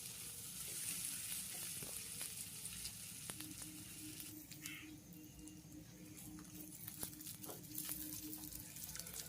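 Onions and green chillies fry in a pan, giving a soft, steady sizzle with faint crackles and the occasional stir, quiet and continuous with no talking.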